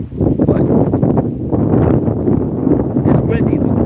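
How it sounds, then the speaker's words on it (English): Wind buffeting an outdoor microphone in gusty, chilly weather, heavy low rumbling bursts rising and falling throughout, with someone talking over it. "it's windy. The camera's shaking. It's windy."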